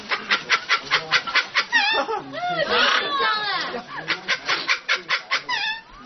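A pet parrot in a rural village mimics a hen's cackle after laying an egg. It makes a close, loud run of rhythmic clucks that swells into a drawn-out squawking cackle, then returns to quick clucking.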